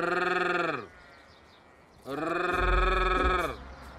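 Sheep bleating in two long, loud calls, the first ending about a second in and the second following after a short quiet gap, close and clear with no talk over them.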